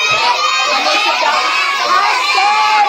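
A group of children loudly croak and shout together, imitating frog ribbits in a noisy, overlapping chorus that continues without pause.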